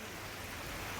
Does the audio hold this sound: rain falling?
yes